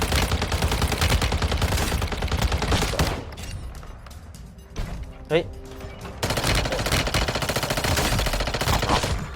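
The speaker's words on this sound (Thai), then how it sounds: "เสียงยิงข้างบนเหรอ" Bursts of rapid automatic gunfire in the video game Warzone Mobile rattle loudly, pause briefly while a voice calls out, then resume in dense volleys.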